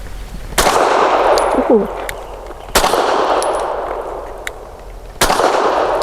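Three loud, sharp pistol shots from a Grand Power Q1S firing Federal Syntec Action Pistol 150-grain red polymer-coated rounds, evenly spaced about two seconds apart outdoors, each with a ringing decay, and a brief exclamation between them.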